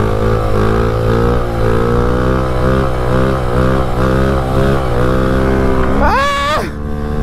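Motorcycle engine revving hard and steadily during a wheelie at about 37 mph near Lake of the Ozarks, a loud close drone with a sharp rising rev near the end.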